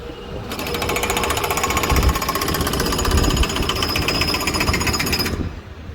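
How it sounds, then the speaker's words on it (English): A jackhammer pounds concrete in a loud, rapid, continuous rattle of blows that runs for about five seconds, then cuts off abruptly, with no voices over it. "I found the jackhammer guy."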